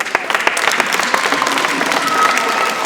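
Dense audience applause with many overlapping claps, loud and sustained throughout, with crowd murmur beneath and no distinct speech.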